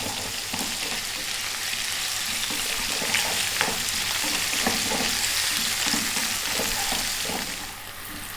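Fresh whole chilies frying in an eggplant and potato curry (aloo brinjal dry fry), with a steady close sizzle and occasional stirring scrapes throughout, no talking.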